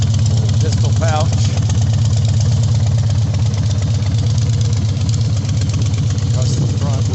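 A 2006 Harley-Davidson Night Train motorcycle with a custom rear end and custom front wheel idles loudly and steadily nearby, its low, lumpy, pulsing rumble continuing throughout. A voice speaks briefly over the engine.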